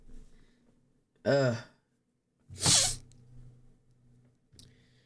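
A single person sneezes, a sharp explosive burst with a breathy tail, preceded by a voiced inhale or gasp and followed by a brief click and quiet breathing.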